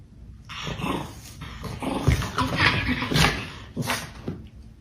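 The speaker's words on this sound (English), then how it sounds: "Guard Chihuahua on duty." A small Chihuahua guard dog growls steadily and rumbles at close range, with snarling bursts and short yippy rises throughout.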